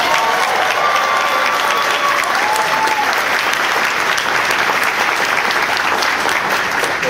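At a convention panel with actor Billy Dee Williams, an audience gives a sustained, loud round of applause, a dense, even wash of many hands clapping that holds steady throughout, with a few faint voices under it.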